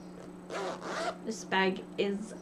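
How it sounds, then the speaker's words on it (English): A tabbed zipper on a vinyl-front project bag, pulled in several short, close, raspy runs between pauses, with a person talking over it. "It's got a tabbed zipper at the top, which is really, really handy."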